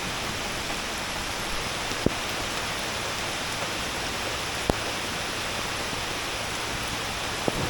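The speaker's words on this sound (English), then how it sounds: "Not the splash test, but it's the heavy rain test." Heavy rain pours down in a dense, steady hiss, with a few sharp taps cutting through.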